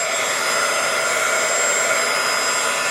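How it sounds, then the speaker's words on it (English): A loud, constant blowing roar like a hair dryer, steady and close, running without pause and with no talking. "I'm going to use my heat tool."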